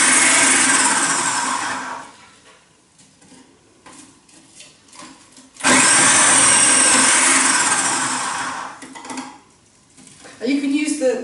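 A blender chops cabbage for sauerkraut in loud whirring bursts, roaring for a couple of seconds, dropping to quieter clatter and knocking, then roaring again at full power, close by.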